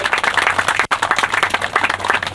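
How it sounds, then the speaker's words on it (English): Crowd applause at a groundbreaking ceremony for a new high school, a short burst of dense, close clapping that continues steadily with one brief dip. "With that, a round of applause."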